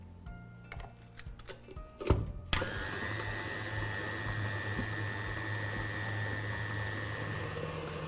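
A few clattering knocks, then an electric mixer beating Nutella Swiss meringue buttercream whirs up to a steady, even drone that runs continuously to the end.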